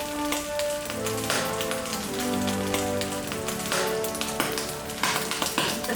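Rice shallow pan-fried in a little hot oil, a close, steady crackling sizzle with dense popping spatters that holds at an even level from start to finish.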